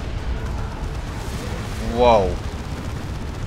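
Artillery explodes in Dawn of War 2: Retribution during an Imperial Guard versus Eldar match, with a rocket run and Emperor's Wrath strike. Rolling booms and rumbling blasts swell briefly under an excited caster's commentary.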